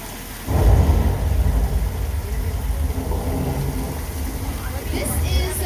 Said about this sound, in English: This is actually how we make rain for the movies, folks.